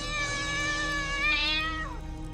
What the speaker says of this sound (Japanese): かまどの中から何かの悲鳴が。 猫がかまどの中にいたのだ。